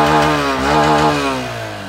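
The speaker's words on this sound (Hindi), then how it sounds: "सबसे ज़्यादा स्मूथ और साइलेंट इंजन होंडा का ही है। ये लो, साउंड सुनो।" A Honda SP 125 motorcycle engine idles close by, a smooth, steady hum with a small rise in revs before it settles and fades slightly, with no voices.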